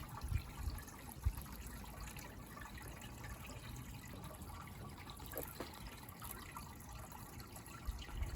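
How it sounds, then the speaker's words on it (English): Water overflows from a rain-barrel bird bath and trickles into a pot in a garden water feature, a faint, steady running trickle with no talk. "which overflows into this pot, which seems like it has no end because it never fills up"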